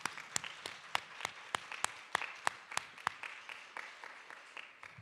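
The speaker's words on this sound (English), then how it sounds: "let's give them a round of applause" A small audience at a spring jazz band concert claps in quiet, sparse, distinct hand claps with some rhythm. It is soft and distant, and no one talks.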